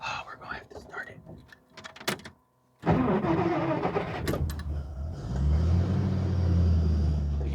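A 1950 Plymouth barn-find car's engine cranks after a brief pause, then catches and settles into a loud, steady low rumble that swells and holds close by, with quiet whispering beforehand.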